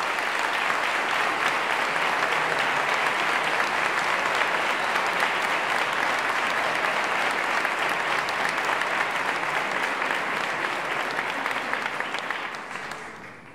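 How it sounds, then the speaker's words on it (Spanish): Sustained audience applause for a march composer at a Holy Week band concert, a dense, steady wash of clapping that holds for over twelve seconds before tapering off at the end. "pido de nuevo un aplauso para él por el gran trabajo"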